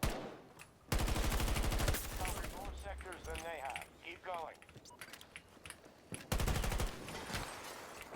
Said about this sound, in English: I think Sniper was taking a shot at me there.